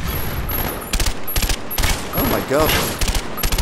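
Rapid bursts of automatic gunfire from a Call of Duty: Black Ops match on Xbox One, loud and close, crackling in short volleys while a voice exclaims over the shooting.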